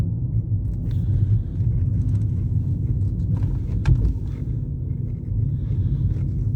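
A Mini with a 1.5 turbocharged engine and bigger wheels driving on the road, heard from inside as a steady low engine and road rumble with faint rattles and clicks, no speech.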